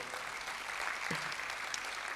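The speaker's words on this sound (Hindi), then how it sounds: "इस पर ताली बजाना चाहिए।" Audience applause at a Hindi-language religious gathering marking a death anniversary, a steady, dense wash of clapping from many hands throughout, with no voices over it.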